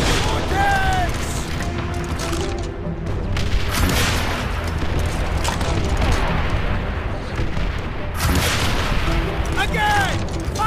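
Rockets fire at tanks in the World War II shooter Call of Duty: World at War, a dense, continuous barrage of loud booms and blasts layered with shouting voices and battle noise throughout.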